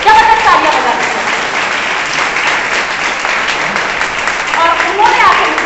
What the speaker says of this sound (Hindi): तो एक बार मेरे वीरू भैया के लिए, मेरे अपलाइन के लिए जबरदस्त तालियां बजा दीजिए